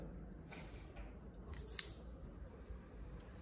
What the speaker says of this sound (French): on va couper les bords ici aussi